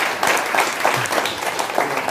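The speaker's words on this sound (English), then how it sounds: "Give him a nice round of applause." An audience at a magic show bursts into a short round of clapping, dense and lively, many hands at once, fairly close and loud with no voices over it.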